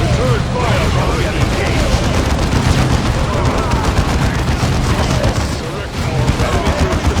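Rapid, continuous gunfire and explosions from Space Marine squads in a Warhammer 40K Dawn of War II battle, loud and dense throughout, with voices mixed into the din.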